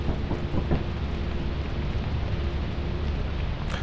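Steady rain with low rumbling thunder in the video game Lethal Company, a dense continuous wash filling the scene, with a brief brighter burst near the end.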